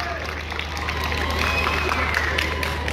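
Steady crowd applause, moderately loud and continuous, with a murmur of voices and cheering mixed in, as if from a large audience nearby.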